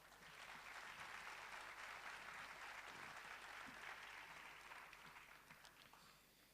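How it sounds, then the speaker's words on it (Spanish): Continuous applause from a seated conference audience at a talk on education and hacktivism, even and full for most of its length before tapering slightly toward the end. "Otro aplauso, por favor."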